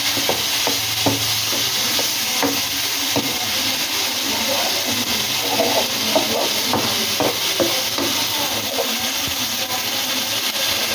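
Fried onions and five chopped tomatoes stirred in a pan for a Pakistani restaurant-style mash daal, with a steady sizzle under repeated close scrapes and clinks of the spoon against the pan.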